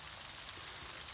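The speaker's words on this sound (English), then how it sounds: "it just kind of rains down all underneath the canopy as it spins around" A micro sprinkler spins while watering avocado trees in Southern California, spraying a faint, steady rain-like hiss under the canopy with one tiny tick midway.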